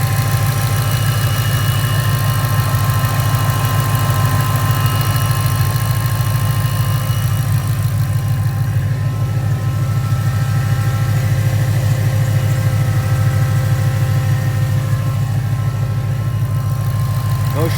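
A supercharged Ford Mustang GT 5.0 engine idles steadily and loudly up close, a deep continuous rumble with a faint whine holding throughout, no voices over it.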